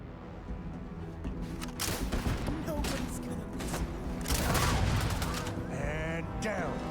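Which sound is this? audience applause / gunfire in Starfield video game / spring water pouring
gunfire in Starfield video game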